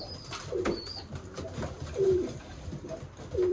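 Racing pigeons in a loft give three low, throaty coos, spaced about a second and a half apart, over a soft rustling background at close range.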